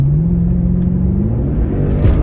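Car accelerating on a road test after a kick-down without the sprint booster engaged, a loud close engine drone rising slowly in pitch with steady rumble and whir, no talk.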